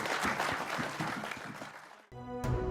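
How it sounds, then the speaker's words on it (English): An audience claps at the close of a World War II history program, a dense patter of applause that fades out after about two seconds before music comes in. "give these folks a round of applause"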